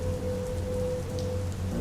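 Steady rain falling on a surface with a low, continuous thunder rumble underneath, sustained and fairly loud throughout a stormy night scene.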